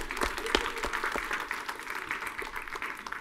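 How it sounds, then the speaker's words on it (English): Scattered applause rises from a tech-talk audience, a moderate patter of clapping with a few sharper claps near the start, heard at a slight distance. "round of applause for these guys again"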